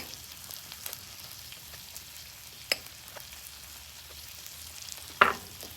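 Buttered bread frying on a flat top grill, a soft continuous sizzle with light crackle, broken by a couple of sharp clinks, without speech.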